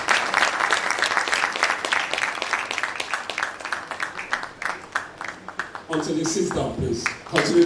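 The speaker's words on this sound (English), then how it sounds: "Please, a round of applause." An audience at a dentistry faculty ceremony applauds to welcome the university's Vice Chancellor with close, crisp clapping that thins out midway and then swells again, while voices murmur near the end.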